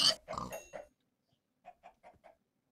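Minecraft pigs oink in a quick series of four grunts near the start, then four fainter, shorter oinks follow after a pause.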